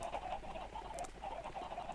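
Chickens clucking in a Minecraft-style automatic broiler farm in a video game, a dense, steady chorus of soft overlapping clucks at a constant low level, with no voices.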